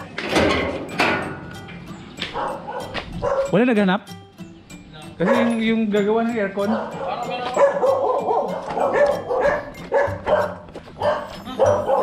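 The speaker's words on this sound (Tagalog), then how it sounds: "Ang ingay ng aso." Dog barking repeatedly at home with yips and whimpers mixed in, loud and near, partly overlapping people talking in Filipino.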